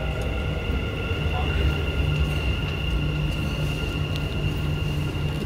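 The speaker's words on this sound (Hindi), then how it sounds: "ये आ गई है रेलगाड़ी।" A Dubai metro train pulls into the station with a steady loud rumble and a sustained high electric whine, continuous and close, with no one talking over it.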